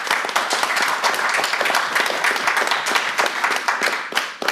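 An audience at a town select board meeting breaks into sustained applause, loud and close, with many hands clapping at a dense, even pace until it tapers near the end.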